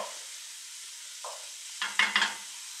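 Lardons frying in a cocotte over gas, a soft steady sizzle broken by a few short scraping stirs near the end, close and fairly quiet.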